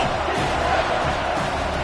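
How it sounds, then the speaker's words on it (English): A football stadium crowd roars steadily for the home defense on third down, a dense, continuous wall of cheering and shouting that holds at high volume throughout. "Decibels rising as the crowd gets behind this defense on third down."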